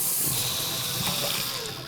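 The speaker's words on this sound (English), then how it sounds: "Then all you do is turn on some cold water and you run it" Cold water runs steadily from a Chicago Faucets tap into a sink, a continuous close, loud rushing stream lasting the whole moment without any voices.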